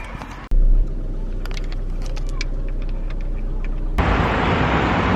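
A car engine with poor oil, recently changed, idles with a steady low hum after a sharp clunk at the start, and a louder broadband rush takes over near the end.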